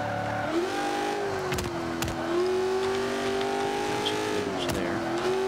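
A 1995 Ford Cobra in the Forza 5 racing game accelerates hard, its engine note climbing steadily through the gears with brief shift dips, loud and continuous throughout with no talk.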